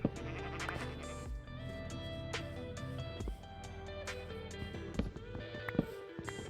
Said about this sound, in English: Hey, another brown sheep.